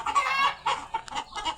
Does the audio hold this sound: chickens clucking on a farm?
yes